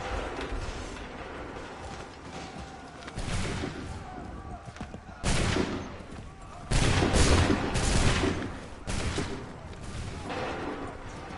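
A musket volley goes off in the Assassin's Creed 3 video game, heard as several loud bursts of gunfire with booming crackle spread across the clip. Shouted battle commands and a busy background run under the bursts.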